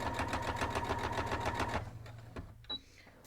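Sewing machine back stitching holiday coasters: a fast, even mechanical chatter of the needle for under two seconds, then stopping, followed by a few faint clicks and handling sounds.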